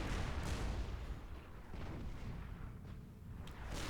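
Fortified artillery firing in the video game Supreme Commander 2, a rumbling run of muffled booms and blasts at low level, with a sharper crack near the end.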